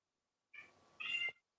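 A cat gives two short meows close by, the second longer and louder, with silence around them.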